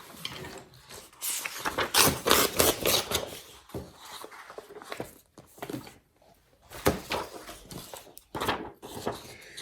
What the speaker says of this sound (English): So I'm just going to go ahead and cut that out.